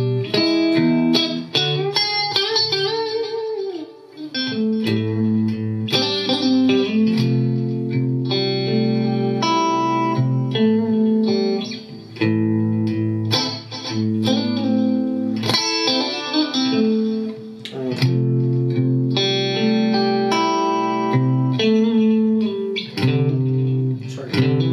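An electric guitar plays an arrangement, with ringing chords, hammer-ons and bends under chorus and reverb effects, sounding close and continuous with no talking.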